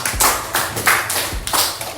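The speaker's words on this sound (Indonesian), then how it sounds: "Tepuk tangan buat Jara." A few classmates in an elementary classroom clap for a student, giving four or five close, uneven hand claps spaced across a couple of seconds.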